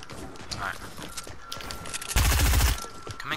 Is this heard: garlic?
no